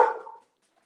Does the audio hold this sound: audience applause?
no